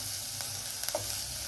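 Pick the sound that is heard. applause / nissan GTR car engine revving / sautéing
sautéing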